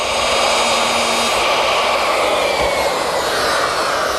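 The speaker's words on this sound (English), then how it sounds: "I use my router with this guide fence and a 3/4 inch straight cutting bit." A router fitted with a 3/4 inch straight cutting bit and guide fence mills a stop dado in pine, giving a loud, continuous high-pitched whine with a broad roar, close and unbroken throughout.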